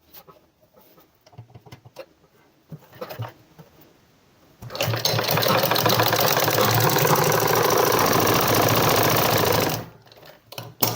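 A sewing machine stitches a trouser dart, preceded by light fabric handling and clicks, then a loud, steady rapid whirring run for about five seconds before stopping.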